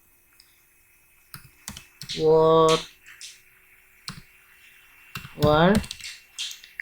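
Computer keyboard typing in two short bursts of rapid, close clicks, with brief speech-like sounds in between and a quiet room around them.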